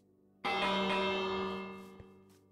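A single loud bell strike in the Minecraft video game rings out sharply and decays slowly over a couple of seconds, a rich metallic tone with lingering overtones and a faint tap near the end.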